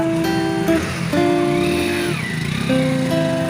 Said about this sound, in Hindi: बाइक को जाने दो,